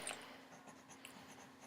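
A pen or pencil scratches quietly across paper in short, faint strokes, close up and alone, as an object's name is written on a worksheet during a measurement lesson.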